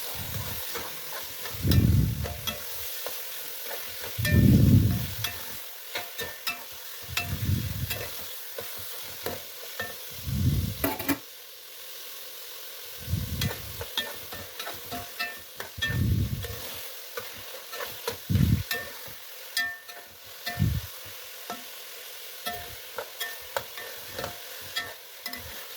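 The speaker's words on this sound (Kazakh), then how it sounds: "Үздіксіз араластырамыз." Meat for Kazakh kuyrdak stirred without pause as it fries in hot oil, with repeated scraping stirs in bursts over a steady sizzle, close and clear, no talking.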